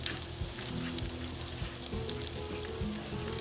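Butter and oil heat in the bottom of a Dutch oven at the start of a roux for sausage gravy. The fat gives a steady, close sizzle and crackle, with a few dull knocks of cookware under it.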